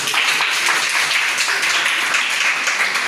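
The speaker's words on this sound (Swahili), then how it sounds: "Mnipigie makofi" An audience at a comedy show claps steadily, giving a dense, even wash of applause that holds at the same loudness throughout.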